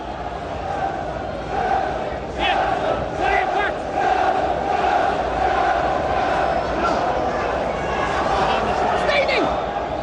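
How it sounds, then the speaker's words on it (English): Football crowd at a 1993/94 Premier League match between Blackburn Rovers and Chelsea, with travelling Chelsea supporters raising a distant, continuous cheer and chant in a stadium. "that small band of travelling Chelsea supporters have another little reason to raise a hopeful cheer"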